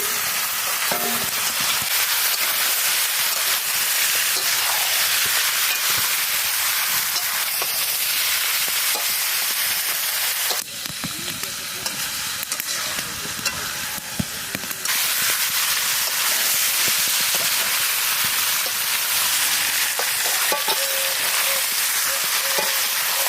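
Country chicken frying in a pan with green chilli and spices, a steady close sizzle and hiss running throughout with occasional scraping stirs, briefly dipping quieter midway before the full sizzle returns.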